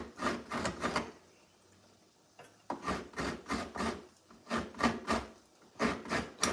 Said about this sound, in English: get control of this little grater